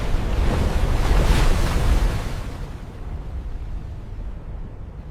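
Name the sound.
raging sea waves sound effect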